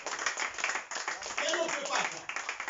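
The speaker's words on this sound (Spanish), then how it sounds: "Dale un aplauso, Señor." A church congregation claps together in a brief burst of uneven, fairly distant clapping mixed with voices and crowd noise.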